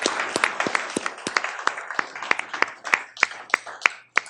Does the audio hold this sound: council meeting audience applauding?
yes